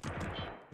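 Gunfire in the video game Escape from Tarkov: Arena, a single sharp, quiet burst of rapid shots lasting under a second, heard alone.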